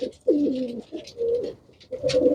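Pigeons of the Farash breed cooing up close, a few throaty rolling coos in separate phrases with brief gaps, loud and clear over a quiet background with no talking.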